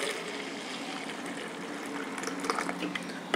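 Water is poured into a container in a steady, splashing stream of moderate loudness for a few seconds, with no talking.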